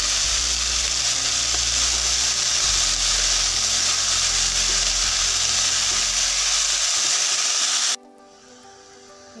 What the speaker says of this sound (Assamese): এতিয়া শাকখিনি বহাই দিম।